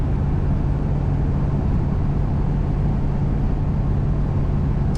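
Steady broadband rush of a 1965 Chevrolet Impala convertible driving on a chilly Minnesota day, with wind noise around old seals and a low engine and road drone, continuous and even with no talking.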